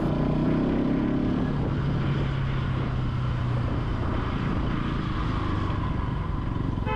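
A 2025 Bajaj Pulsar NS 200 motorcycle being ridden through second, third and fourth gear, with a continuous, loud exhaust drone and a low engine note that shifts pitch, heard alone without talk.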